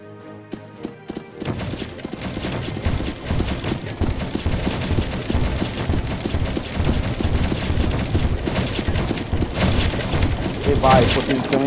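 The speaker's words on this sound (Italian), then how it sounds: "Un altro cannone." Cannons fire in rapid, repeated booms in the tower-defense game Fort Defense, dense overlapping blasts and impacts continuing throughout with no speech.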